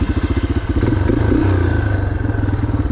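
A dirt bike engine runs loud and close with the clutch pulled in, a fast pulsing thump that swells into a steadier rev partway through, with no voices.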